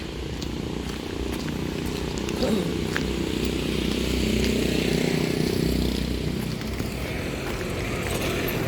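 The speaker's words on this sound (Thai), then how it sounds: "รถไถเตรียมเอาเรือลงจ้ะ" A tractor engine idles and rumbles steadily at a morning beach in Jomtien as it prepares to launch a boat, a continuous low droning note at moderate distance with faint ambient background.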